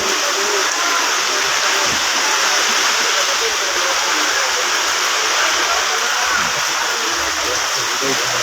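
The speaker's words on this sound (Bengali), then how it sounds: "ব্যাপক বৃষ্টি হচ্ছে।" Heavy rain pouring down at the Gabtoli cattle market in a loud, constant roar that never lets up.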